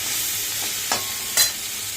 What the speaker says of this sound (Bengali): এই যে তরকারিটা ভাজা ভাজা করছি